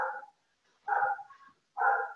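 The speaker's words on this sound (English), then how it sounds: "Hopefully the dog's not distracting." A dog barks indoors in three short, separated bursts, fairly close and moderately loud, with gaps of quiet between them.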